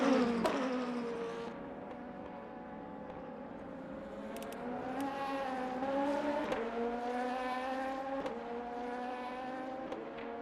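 LMP2 prototype race car lapping Daytona in a racing simulator game, its engine note rising and falling steadily through shifts for about ten seconds, fairly quiet and heard alone without talk.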